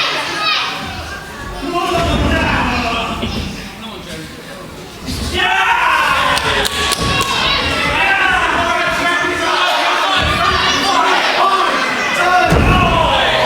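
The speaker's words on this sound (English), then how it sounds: "Listen to the crowd get behind James Pharrell" A live wrestling crowd at a WrestleForce championship match yells and cheers loudly, many high, young-sounding voices shouting together, with a brief lull early on and occasional thuds from the ring.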